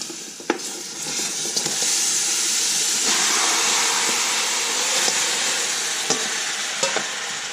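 Marinated pork for a riblet stew with cactus drops into a hot pot and a loud, close sizzle swells and holds steady, hissing like steam, with a few sharp clacks of a spoon.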